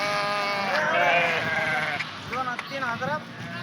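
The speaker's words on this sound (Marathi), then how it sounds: "किती मेंढर आहेत" A large flock of about three thousand sheep, kept by nomadic herders near Somthana, bleats repeatedly in wavering cries close by, while people talk over the animals throughout.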